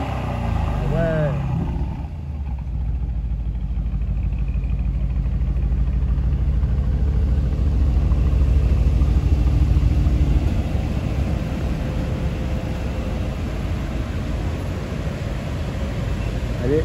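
A supercar engine in Paris idles and rumbles with a deep, steady low drone that holds for the whole stretch, with a brief higher rev at the very start and people talking over it.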